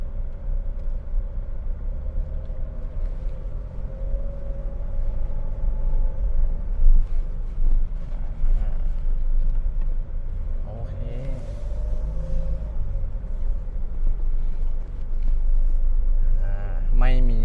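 A 2019 Hyundai H-1 2.5 Elite eleven-seat van idles with its engine running, a steady low rumble that holds throughout, with a brief rising whine near the end.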